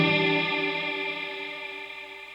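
A single sustained electric guitar chord rings and slowly decays, washed in heavy reverb at its maximum setting, steady and fairly loud with no voices.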